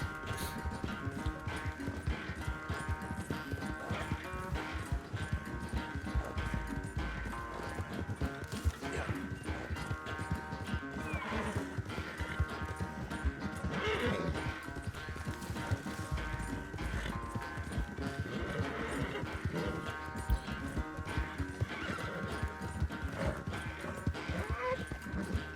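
A horse gallops steadily in Red Dead Redemption 2, its hoofbeats drumming continuously over a busy game soundscape for the whole stretch, with occasional neighs.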